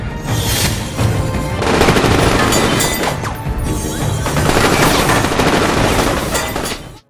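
Loud, dense bursts of rapid machine gun fire rattle almost without pause, with crashing impacts mixed in and no voices.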